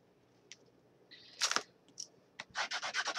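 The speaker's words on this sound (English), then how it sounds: "Burnish it really good." Short bursts of rubbing and scraping as a wooden tea bag caddy is burnished, quiet and close, ending in a quick run of rhythmic rubs.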